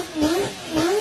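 A 1200-horsepower Toyota Supra MK4 engine revving in two quick rising pulls, a close, droning tone that climbs and falls twice in about a second.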